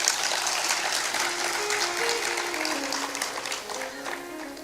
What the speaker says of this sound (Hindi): उनके लिए एक बार ताली जरूर बजाते।